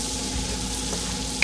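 A pot of keto broccoli and cheddar soup simmers and sizzles softly as it is stirred, a steady, moderately quiet hiss heard alone.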